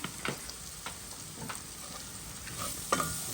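Shrimp and bitter melon stirred in a hot oiled pan, a steady sizzle broken by several scraping utensil strokes, close and moderately loud, with no speech.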